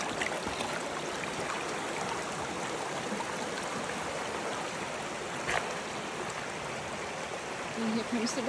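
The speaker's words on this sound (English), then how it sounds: "The rain again." Steady rain falls through woodland at a campsite, a dense continuous patter and hiss spread evenly across the whole stretch, with no talk over it.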